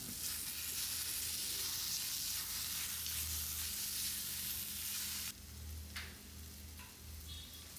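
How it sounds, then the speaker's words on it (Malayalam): Chopped potatoes sizzle loudly in a pan of spiced masala, a dense continuous frying hiss that drops abruptly to a softer sizzle with a few light clicks and scrapes near the end. "ഇനി നമുക്ക് കിഴങ്ങ് നുറുക്കിയത് അത് ചേർക്കാം."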